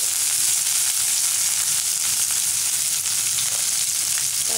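Onions frying in hot oil for a manathakkali keerai poriyal give a loud, constant, dense hiss of sizzling that runs without a break and has no talk over it.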